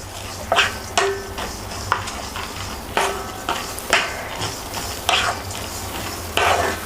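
Lentils for sambar powder dry-roasting in a pan, a rhythmic series of scraping stirs about once a second over a faint background hiss, close and fairly loud, with no voices.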